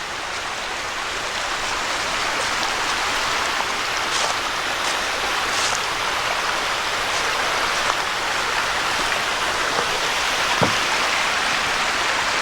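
Water of a creek flowing steadily along a roadside spot in Pennsylvania on an autumn day, a continuous broad rushing wash heard close and alone, with a few faint clicks over it.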